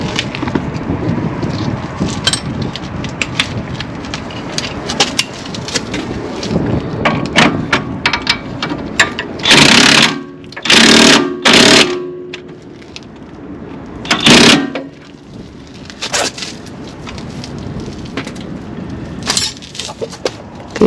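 A power tool tightens strut bolts during front strut replacement on a 2010-2014 Acura TSX wagon, heard as several loud, short buzzing bursts over rustling handling noise and wind buffeting.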